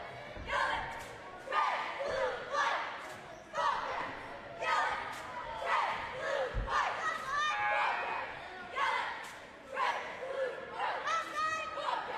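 Basketball crowd at a girls' championship game in Benson, Arizona, cheering and shouting in rising and falling waves during a timeout while Bobcat cheerleaders perform, with bursts of yelling and occasional sharp bangs over a steady roar.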